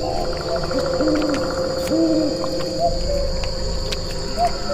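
Bird calls, including repeated hoot-like notes, rise and fall in the dense Sundarbans mangrove jungle over a constant chirring of crickets and insects. The calls are moderately distant, with no talk.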